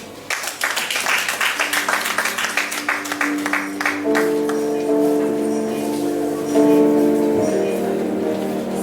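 Audience claps for a speaker at the TAFT 2024 event, a brisk round of hand claps for about four seconds that gives way to sustained tonal music, loud and close in a hall.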